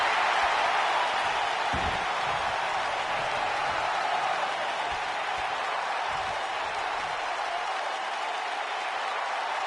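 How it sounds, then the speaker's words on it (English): A wrestling crowd in a PS4 game cheers and roars in a steady, dense wash of noise that holds for the whole stretch without easing. "by the sound of this crowd, I think they're getting what they wanted"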